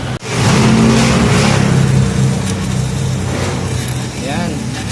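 A car engine with a repaired exhaust muffler revs loudly and steadily up close, its rough drone holding through most of the stretch with a brief dip near the start, while a person speaks over it.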